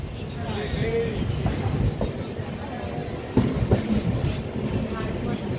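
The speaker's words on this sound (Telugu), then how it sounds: "సో వరంగల్ స్టేషన్ నుండి అయితే మన ట్రైన్ అయితే బయలుదేరిపోయింది." Passenger train pulling out of Warangal station and running along the tracks, a steady rumbling roar with a few louder rattling clacks, heard from inside a coach.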